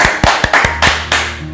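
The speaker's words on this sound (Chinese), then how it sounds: "我们先给老师一个掌声好吗？" Brief applause for a personal fitness trainer, about half a dozen loud, sharp claps in an uneven rhythm over roughly a second and a half, close and alone with no speech.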